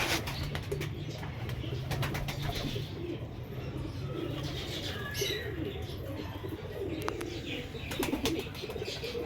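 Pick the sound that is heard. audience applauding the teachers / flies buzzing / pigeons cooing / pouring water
pigeons cooing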